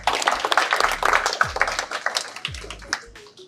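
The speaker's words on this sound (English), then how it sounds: "Give him a big applause." A small audience at an entrepreneur talk claps in sharp, uneven bursts of separate hand claps rather than a full roar, fairly close and lively.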